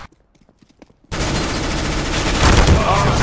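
After a brief quiet stretch of faint ticks, Counter-Strike: GO gunfire erupts into a loud, dense, sustained burst that continues to the end.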